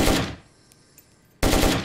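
Automatic rifle fire in a first-person shooter video game, a loud close burst, then a brief near-silent gap, then a second burst.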